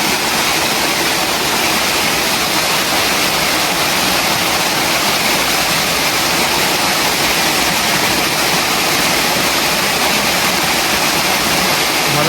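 A mountain waterfall roars as a constant, loud, even rush of falling water, unbroken from start to finish with no voices over it.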